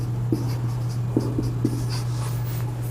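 Chalk or marker writing an equation on a classroom board during a physics lesson, with a few short scratchy strokes over a steady low hum.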